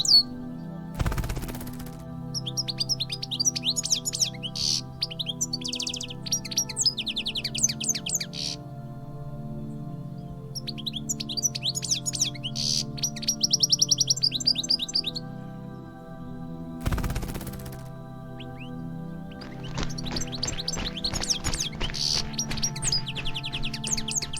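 A European goldfinch sings in bursts of rapid, bright twittering trills and liquid chirps, clear and close, broken by a couple of sharp loud thumps and a long steady low hum underneath.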